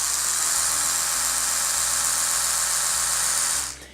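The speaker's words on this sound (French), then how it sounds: "Et là, la brosse fonctionne avec un nettoyage standard" An Oral-B Genius 9000 Rosegold Edition electric toothbrush runs in standard clean mode, giving a steady high-pitched whir with a faint pulsing low hum. The sound holds close and constant for several seconds, then cuts off.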